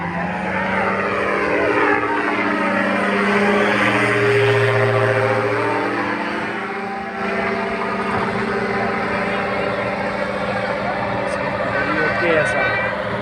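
A powered paraglider motor drones steadily on a runway at a paragliding show in Faisalabad, its propeller hum shifting in pitch as it heads out for another takeoff attempt after light maintenance, loud and continuous with voices faintly underneath.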